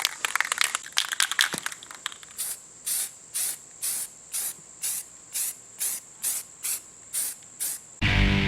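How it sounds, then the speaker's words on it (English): An aerosol can sprays a base coat of paint onto a deer skull for hydro dipping, first in irregular bursts, then in a regular series of about a dozen short hissing sprays, close and loud. "So we'll go ahead and spray the base coat on."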